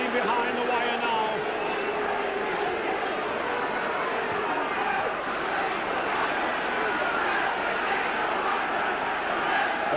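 A Warrington rugby league crowd roars steadily from the stands at a Regal Trophy final against Bradford Northern, a dense wash of cheering and chanting that runs the whole time beneath a commentator's voice.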